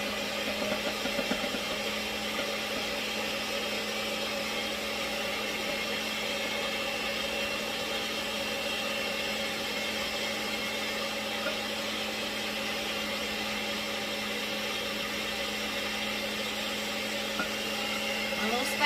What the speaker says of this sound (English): what I'm going to do is I'm going to turn on the mixer, and then I'm going to slowly add in